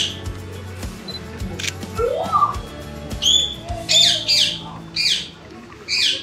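Lady Amherst's pheasants call at Moscow Zoo with sharp, harsh squawks and chirps. The calls come in short bursts that grow more frequent toward the end, with other birds and soft background voices around them.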